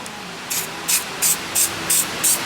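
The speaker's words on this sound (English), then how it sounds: "you're supposed to go ahead and spray it" Spray adhesive is sprayed onto a cork gasket in short, loud hissing bursts, six in quick succession with brief pauses between them.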